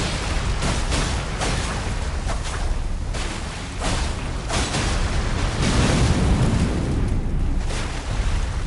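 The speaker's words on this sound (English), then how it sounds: "There's that one, and then there's the secondary explosion." A secondary explosion in the video game Elden Ring, a loud rumbling blast with repeated bursts and crackling debris that rolls on for several seconds, without talk.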